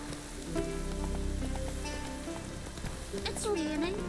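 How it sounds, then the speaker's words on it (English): Rain falling in The Witcher 3, a steady patter across the scene with game music and voices layered over it. "It's raining."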